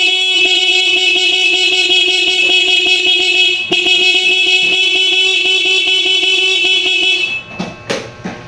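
Honda-style Smash 115 motorcycle horn held in a loud, continuous buzzy honk for about seven seconds, then cutting off into faint clicks and handling noise.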